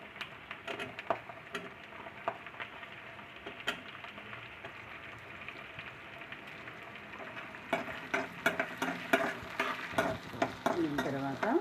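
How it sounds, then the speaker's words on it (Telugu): Onions go into hot oil in a pan for a Telugu ponnaganti leaf dal fry, giving a soft crackling sizzle with stirring scrapes and clinks, fairly quiet and growing busier toward the end. "ఇప్పుడు ఆనియన్స్ వేస్తున్నాను."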